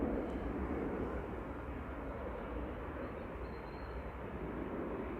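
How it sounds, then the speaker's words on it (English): A Lufthansa Airbus A319 departs Manchester Airport for Frankfurt with a steady, broad jet roar that stays fairly distant and holds at an even level throughout. "It's Lufthansa departing back to Frankfurt, second flight of the day. That's an A319"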